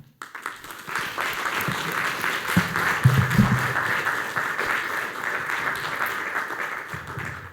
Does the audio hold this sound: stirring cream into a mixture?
no